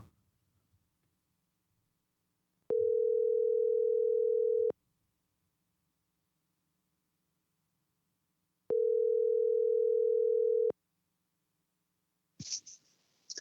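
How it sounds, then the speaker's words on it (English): A phone call is placed from a contacts list, and a steady ringback tone sounds in two long rings with a silent gap between them before the line picks up. "let's get the phone ringing here in just a second"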